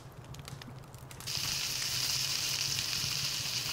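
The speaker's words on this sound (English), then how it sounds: "Get our trusty frying pan out." Meat sizzles and fries in a frying pan in the video game Palworld, a steady hiss that swells louder after the first second and holds, alone without talk.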